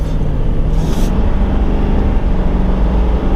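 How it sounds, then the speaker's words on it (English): A Chevy Silverado 2500 diesel pickup truck driving on the road, heard as a steady low engine and road rumble that fills the whole stretch with no talking. "we are going to take this truck out on the road"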